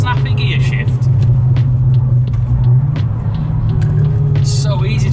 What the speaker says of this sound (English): Nice little snappy gear shift.